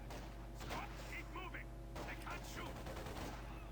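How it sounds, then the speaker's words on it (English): MP44 assault rifle gunfire in the World War II video game Iron Hearts 2, a dense run of rapid, loud shots with overlapping battle noise throughout. "there's a guy with an MP44 blasting right in their faces"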